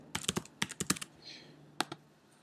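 Keystrokes on a computer keyboard as a username and password are typed into a login page, a quick burst of about eight clicks, a pause, then two more taps, close and clear with no talking.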